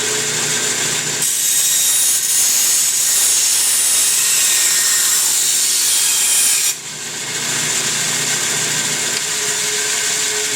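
A power tool cuts a sheet metal patch with a loud, steady high-pitched whine that runs almost continuously, dipping briefly before resuming.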